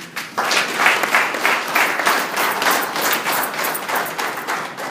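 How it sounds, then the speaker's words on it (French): Audience applause at a port management certificate ceremony, a dense, steady wash of many hands clapping from a close crowd, loud and sustained for the whole stretch without talk. "Mais avant, les applaudissements du public"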